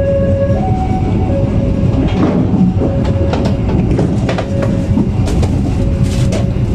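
A passenger train on the Papandayan line pulls into Cibatu station, a loud continuous rumble of wheels and carriages with rhythmic rail clicks and a faint steady tone, heard from inside the train.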